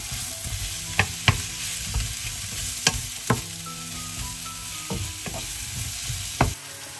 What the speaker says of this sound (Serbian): nastavljam sve da pržim dok